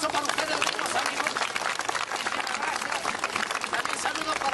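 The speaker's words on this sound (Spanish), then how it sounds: "un fuerte aplauso para ustedes, amigos" A live crowd at a comedy show by Los Wankas de la Risa claps loudly and continuously, with dense applause mixed with voices and shouts throughout.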